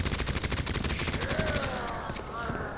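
Rapid bursts of SMG fire in Resident Evil 2 Remake, a dense fusillade of loud, closely spaced shots over the first second and a half, then tailing into game ambience and echoes.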